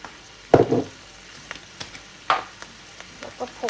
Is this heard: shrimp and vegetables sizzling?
yes